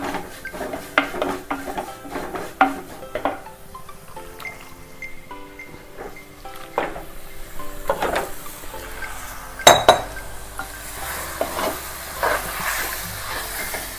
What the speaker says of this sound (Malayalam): ഇനി നമുക്കിതിലേക്ക് ചിക്കൻ ചേർത്ത് കൊടുക്കാം